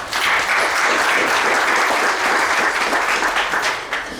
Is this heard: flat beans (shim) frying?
no